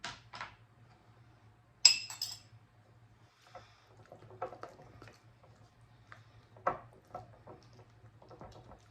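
Light clinks and scraping taps of a utensil stirring coconut into melted chocolate in a bowl, scattered and irregular, with one sharper metallic clink early on, in a quiet room.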